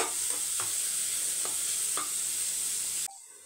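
Chopped onions sizzle steadily in a hot pan, a constant close frying hiss broken by a few soft stirring scrapes, cutting off abruptly near the end.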